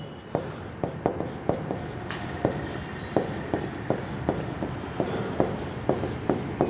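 A pen writes an accounting entry by hand, giving a steady run of sharp, close scratching taps in an even rhythm over faint room noise.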